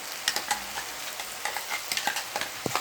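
Okra fries in oil with masala in a pan, a soft continuous sizzle with scattered stirring clicks and scrapes from a utensil, fairly close and without speech.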